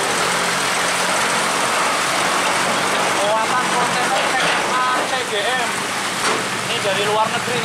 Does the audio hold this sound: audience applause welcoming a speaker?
no